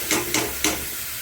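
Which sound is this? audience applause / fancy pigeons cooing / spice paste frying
spice paste frying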